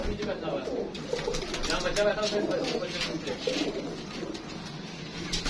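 Domestic pigeons kept at home, including a young pigeon, cooing in soft, low, repeated throaty calls nearby, with someone talking over them throughout.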